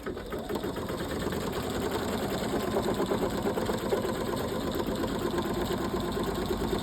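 A Pfaff Creative 3.0 embroidery machine stitches a red heart, its rapid, steady needle chatter and motor whir holding level and close throughout.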